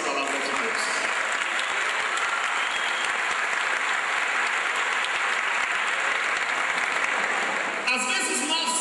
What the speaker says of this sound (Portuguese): Aplauda comigo esse texto da palavra de Deus.